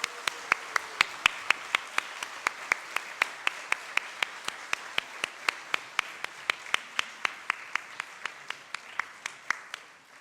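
Church congregation applause on Easter Sunday with sharp, evenly spaced claps, like a crowd clapping in unison to a beat, steady for the whole stretch.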